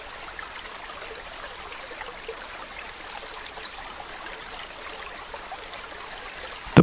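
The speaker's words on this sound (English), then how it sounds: "The water runs fast, tumbling over rocks" A fast mountain stream in Andorra tumbles over rocks, a steady, even rush of running water that holds throughout with no voices.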